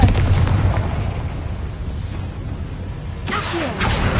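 Confringo blasting spell cast in Hogwarts Legacy, a loud rumbling boom that swells and fades, followed by a second sharp burst of impact near the end, with no talk.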